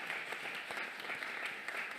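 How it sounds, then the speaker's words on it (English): Audience applause for a panel at a sustainable building event, a soft, even patter of many hands that sounds somewhat distant and continues for about two seconds. "now one round of applause for our panel."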